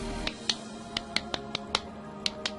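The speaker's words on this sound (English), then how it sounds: "I'm clapping my hands" Sharp, crisp claps ring out one after another at an uneven pace, about a dozen in all, fairly close with a quiet hum underneath.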